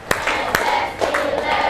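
Students in a classroom perform a rhythmic clapping pattern, giving a few sharp, distinct claps spaced unevenly, mixed with voices chanting along close by.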